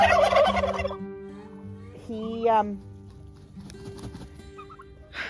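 On a farm where about a hundred animals are fed in winter, a turkey lets out a short rising gobble midway, close by over a steady low hum, while a person talks.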